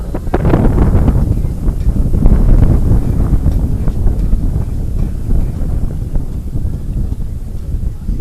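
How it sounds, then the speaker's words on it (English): Strong breeze buffets the microphone at an outdoor ultimate frisbee field during a semi-final match, a loud continuous low rumble with gusty swells and no voices. "Seems to be more breezy today than it was yesterday."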